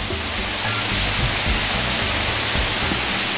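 Waterfall on the upper reaches of Lightning Creek, a steady loud roar of rushing, falling water that continues unbroken and close by, with no voices.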